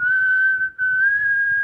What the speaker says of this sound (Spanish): Entonces, por ejemplo, yo voy a chiflar